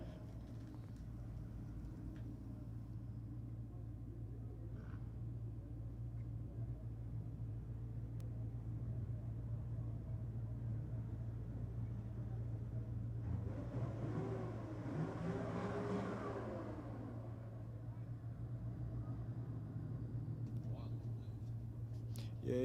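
A 4x4 vehicle accelerates down a drag strip at Sydney Dragway, a distant engine roar swelling midway and fading over a steady low hum.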